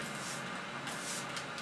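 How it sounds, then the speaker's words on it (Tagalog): A setting spray mist being spritzed onto a brow brush, a soft, breathy hiss of atomized liquid spraying close up, with a faint burst or two within the steady hiss and no talking. "Gagawin ko lang is mag-i-spray lang ako ng mist dito sa brush."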